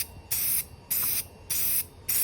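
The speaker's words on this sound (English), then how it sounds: "You spray, you let off. You spray back and forth." Rattle-can spray paint hissing onto a wood board in four separate bursts, each about a quarter-second long, with short pauses between them. The bursts are close and loud.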